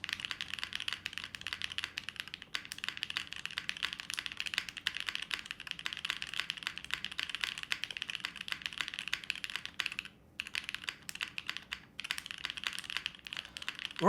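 Continuous rapid typing on a top mount mechanical keyboard, crisp close keystrokes in a dense stream with a couple of brief pauses and a heavier spacebar-like thock at the end; no talking.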